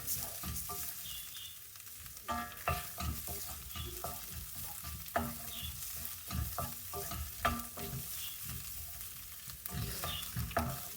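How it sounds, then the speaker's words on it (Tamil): Peas frying in oil in a pan, a steady sizzle broken by repeated scraping and stirring knocks across the whole stretch, with no voices. "கொஞ்சம் எண்ணெய் விடுவோம் கொஞ்சம் பட்டாணி போடுவோம் கொஞ்சம் பொரியட்டும்"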